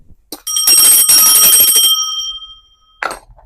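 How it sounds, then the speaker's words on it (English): A single bright bell rung once, ringing loudly for about two seconds and fading, followed by a short sharp knock. "I had to ring the bell so you can hear me well."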